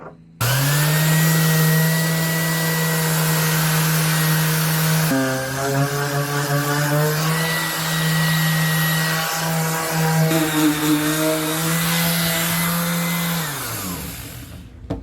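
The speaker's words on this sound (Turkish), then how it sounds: "Zımpara işlemimize başlıyoruz." A steady, loud motor whine from a power sander on a wooden log table runs for about thirteen seconds, shifting pitch slightly midway, then winds down to a stop.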